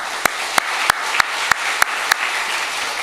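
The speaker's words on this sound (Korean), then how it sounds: "더 건강하시라고, 더 기쁘게 즐겁게 사시라고 박수하겠습니다" A church congregation applauds the elderly parents during a Sunday sermon. A dense, steady wash of clapping runs throughout, punctuated by sharp, evenly spaced accents about every third of a second.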